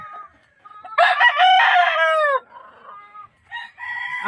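A Raptor sweater gamefowl rooster crows loud and close, one long strained cock-a-doodle-doo, followed by shorter clucking calls with quiet pauses between them.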